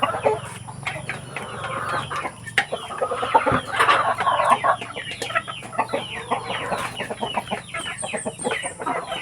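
Lots of chickens cluck and squawk together in a busy, continuous farmyard chorus, with a rooster occasionally standing out, at a farm where roosters are fighting.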